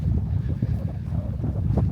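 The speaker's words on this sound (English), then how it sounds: "Just a few little gusts, but nothing major." Gusty wind on the Northern Fells near Bowscale buffets the microphone in a steady low rumble, rising and falling slightly with no voices.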